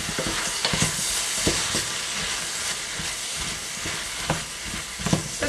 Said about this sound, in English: I'm going to fry these now for about 5 minutes or so.